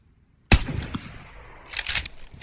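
A sharp gunshot cracks out suddenly in the survival game DayZ and rolls into a fading echo, followed about a second later by a second, quieter burst of shots.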